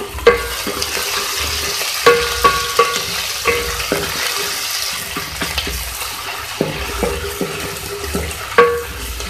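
Ginger-garlic paste fries and gets stirred into dal mash ingredients in a pan, a steady sizzle broken by repeated sharp scraping taps of the spoon against the pan.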